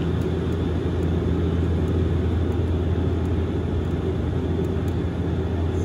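A propeller aircraft flies over Sydney, a loud, steady droning roar that holds unchanged throughout with no voices.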